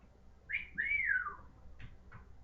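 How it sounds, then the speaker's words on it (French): A faint, two-note whistle, a short rising chirp then a longer falling tone, followed by two brief quiet peeps over a low hum. "Kurt siffla."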